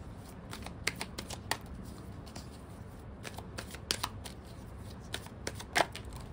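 Tarot cards are shuffled up close in quick riffling bursts, a run of crisp flicks and snaps with short pauses between, alone with no talking.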